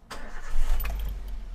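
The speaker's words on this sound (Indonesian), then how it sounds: "Sekarang kita coba hidupkan mesinnya." A 2013 Daihatsu Terios TX cranks briefly and its engine catches, settling into a low rumbling idle, heard close and alone.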